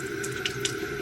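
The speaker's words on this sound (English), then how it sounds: "when I clean my sponges, I'll just get it damp underneath the water" Tap water running over a makeup sponge at a sink, a steady close stream with small splashy variations as the sponge is wetted.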